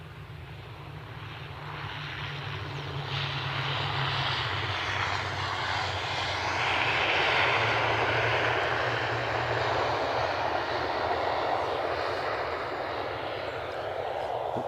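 An EasyJet airliner's jet engines roar steadily at Edinburgh Airport, a broad sustained rumble that swells slightly and holds for the whole stretch at moderate distance.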